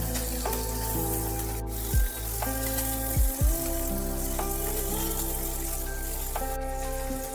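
Paneer pieces dropped into a pan over a low gas flame, a steady close sizzle running throughout with a few soft knocks as the cubes go in; no voices.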